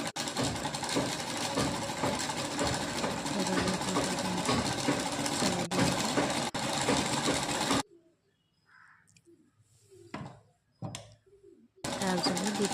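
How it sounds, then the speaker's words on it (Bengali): A sewing machine stitches a trouser pocket with a rapid, loud mechanical whir for about eight seconds, then stops, leaving quiet handling sounds before briefly starting again. "এভাবে সেলাই করে নেব।"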